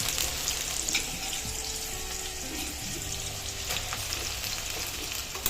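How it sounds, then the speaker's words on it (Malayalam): Soya chunks, squeezed of water, frying in hot oil, giving a steady, close crackling sizzle with small pops throughout. "ഇനി അടുത്ത ബാച്ച് സോയ ചങ്ക്സ് ഇതുപോലെ തന്നെ വെള്ളം ഒന്ന് പിഴിഞ്ഞ് കളഞ്ഞിട്ട് ചൂടായ എണ്ണയിലേക്ക് ഇട്ട് കൊടുക്കാം"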